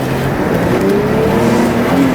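A 1990s Audi Cabriolet B4 pulls away and shifts into gear, with a steady engine drone that rises in pitch as it revs and then shifts, heard from inside the car with no talking.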